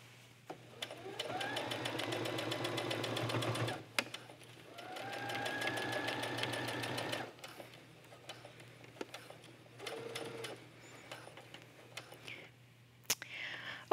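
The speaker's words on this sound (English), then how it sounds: "So we're just going to keep sewing all the way to the end of the hoodie." Sewing machine stitching a seam along a sweatshirt hoodie for a cosplay garment, running in two long steady bursts with a brief pause between, then stopping for quieter handling sounds.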